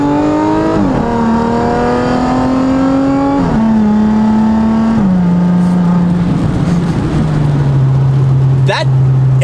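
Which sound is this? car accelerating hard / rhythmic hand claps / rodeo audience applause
car accelerating hard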